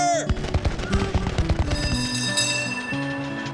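A gunfire volley in a Civil War–era battle scene of an audio drama for a Newport News driving tour fires as a rapid crackling burst of many shots, then gives way to sustained tones.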